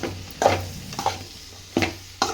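Beans palya being mixed in a pan, four distinct scraping strokes spaced about half a second apart over a low sizzle, close and alone.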